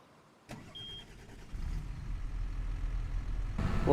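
A tractor engine cranks over and catches, then settles into a steadily building low rumble, close by, preceded by a door or latch clunk and faint cab noises, with no talking.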